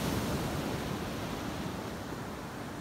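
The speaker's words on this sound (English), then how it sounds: "Morning walk on the beach." Ocean waves wash onto a Costa Rica beach during a morning walk, a continuous broad roar of surf with some wind, steady and fairly loud with no talking.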